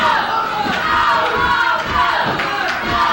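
A packed crowd at a 1998 OVW pro wrestling show cheers and screams, a loud, steady wall of voices chanting and yelling throughout.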